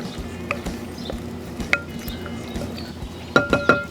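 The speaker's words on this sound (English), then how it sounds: "This is about a 1/2 of a Pablano pepper, small diced. About 1/4 of a red onion, small diced. Go ahead and give those a quick mix." Diced poblano pepper and red onion being mixed in a bowl: a few soft clinks and taps of a utensil against the bowl, ending in a quick cluster of brighter clinks, over a quiet kitchen background.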